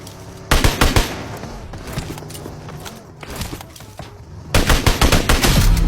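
Gunfire in a shooter video game comes as sharp, loud bursts of automatic fire, with quieter shots and movement between the heavier volleys.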